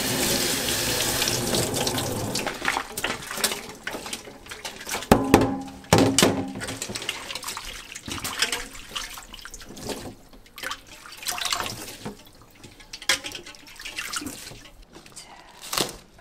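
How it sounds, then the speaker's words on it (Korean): Cold tap water runs into a kitchen sink while boiled bangpung greens are rinsed, a steady close splashing with occasional thunks and drips as the leaves are moved about under the stream. "물에 찬물에 한번 헹궈 줄게요"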